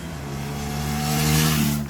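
A Triumph Tracker 400 motorcycle engine revs up steadily and strongly, its pitch climbing over a couple of seconds, heard close and loud with no talk over it.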